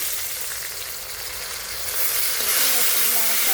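Onion and green chili fry in a pan with garlic paste, a steady close sizzle that swells louder and brighter partway through as more goes in, with light stirring scrapes.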